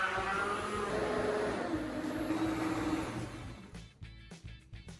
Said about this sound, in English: place them into a blender or fruit juicer to extract the juice